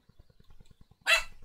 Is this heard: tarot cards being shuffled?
no